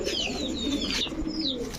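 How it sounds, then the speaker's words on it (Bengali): A female Kashmiri racer pigeon coos nearby, with soft throaty warbling calls overlapping faint chirps from other birds. "এটা হচ্ছে আপনার মাদি কবুতর"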